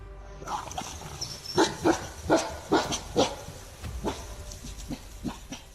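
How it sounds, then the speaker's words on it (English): A pack of wild dogs at night on a trail camera in Alberta gives a series of barks and yelps, rhythmic and mid-distance, followed by softer whimpering calls. "a camera quietly watched a group of dogs in the wild"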